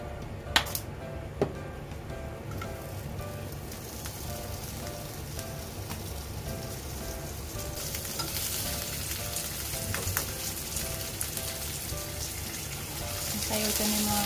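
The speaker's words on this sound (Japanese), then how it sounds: "野菜を炒めます。" Vegetables sizzle and crackle steadily in olive oil in a skillet, a dense continuous frying hiss close by with a few sharp clicks near the start, no talking.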